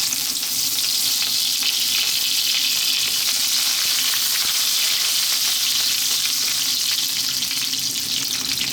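Curry leaves sizzling in hot oil in a pan, a dense, steady crackling hiss that stays loud and close without pause, with no talking over it.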